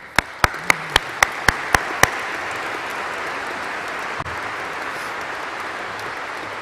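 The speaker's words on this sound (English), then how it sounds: "Give yourselves a round of applause." At a graduation ceremony for the class of 2022, eight sharp, evenly spaced claps ring out up close, then fade into a softer, sustained wash of crowd applause from the audience.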